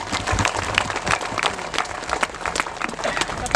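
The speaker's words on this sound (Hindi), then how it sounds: "उनके लिए जोरदार ताली बजा दीजिए।" Applause from a church congregation at a first Mass celebration in Simdega Diocese, thanking the priests; a dense, steady patter of clapping mixed with crowd murmur and voices.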